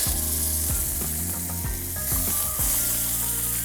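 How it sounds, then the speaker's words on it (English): Crispy-skin salmon fillets sizzling in a pan just after being flipped, a loud continuous frying hiss with a few sharp clanks of a utensil and repeated tonal squeaks layered through it. "So I'm gonna go ahead and flip these guys over."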